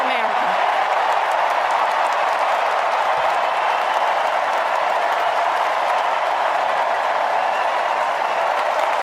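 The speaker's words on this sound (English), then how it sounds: "watching people clap on fast forward is kind of hilarious" A large political convention crowd clapping, sped up on fast forward, giving a dense, hissing, uniform wash of applause that runs steadily throughout.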